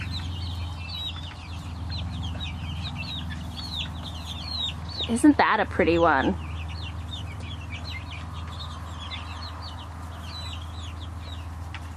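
Chicks peep and cheep continuously in a greenhouse over a low hum, with a brief clatter of handling midway and a person speaking softly.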